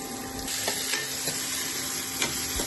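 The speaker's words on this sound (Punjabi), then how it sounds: "ਘਿਓ ਆਪਣਾ ਗਰਮ ਹੋ ਗਿਆ ਜਿਹੜਾ ਆਪਾਂ ਇਹ ਪਿਆਜ਼ ਕੱਟਿਆ ਸੀ ਇਹਦੇ ਵਿੱਚ ਪਿਆਜ਼ ਪਾ ਦਾਂਗੇ" Chopped onions fry in hot ghee for poha, giving a dense, continuous sizzle up close with a few soft clicks and scrapes of stirring mixed in.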